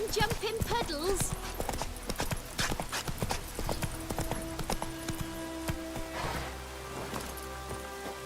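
Roach, the horse in the video game Witcher 3, trots with steady rhythmic hoof clip-clops close up, mixed with game ambience, occasional tonal sounds and a voice talking over it.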